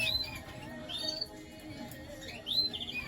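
Ivory mosaic breeding birds chirp inside a cage, giving thin, high, short tweets in scattered bursts at moderate distance over a quiet, slightly hissy room.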